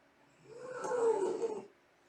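Alien creature from the 1979 film Alien gives a low, rasping growl with a breathy hiss, swelling and fading over about a second and a half, close and fairly quiet, with no talk.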